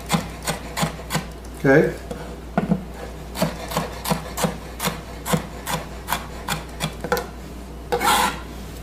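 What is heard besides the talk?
knife slicing cucumber on cutting board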